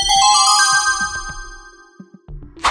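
A bright, chiming notification bell sound effect rings out with several sparkling tonal hits and a short whoosh at the end, loud and alone.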